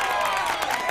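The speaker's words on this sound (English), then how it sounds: "Can I get some applause there?" An audience at a talk gives a brief, dense burst of applause, steady clapping filling the whole moment.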